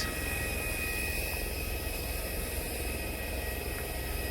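An IndiGo airliner stands at the airport with its engines running, giving a steady, moderate whine and rumble with a high tonal hum, unbroken and without speech.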